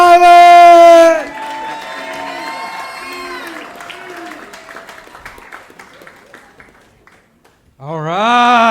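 An audience at the Helium comedy club applauds and cheers as a comedian comes to the stage. Scattered claps and whoops run under music and fade away, with a loud announcer's voice just before and someone speaking at the end.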